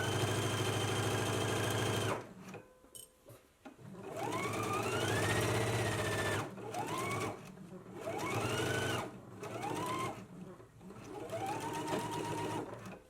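Sewing machine stitching a 5/8 inch seam allowance on a garment, a loud steady run followed by several shorter bursts of motor whine, each rising and falling in pitch.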